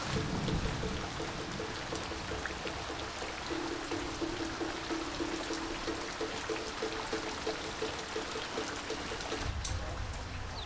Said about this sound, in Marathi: पूर्ण गोंधळ उडाला पावसाने जोरदार पाऊस जोरदार धुवादार बॅटिंग पावसाची